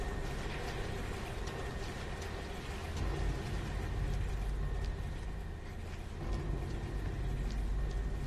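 A saw trap mechanism in the video game Resident Evil Revelations 2 grinds continuously, a dense, rumbling mechanical churn with rattling gear-like texture that holds steady and loud throughout.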